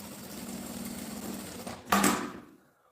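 Sewing machine running steadily as it stitches a seam with polyester thread on a lining, a close mechanical whir that ends with a brief louder clatter before stopping.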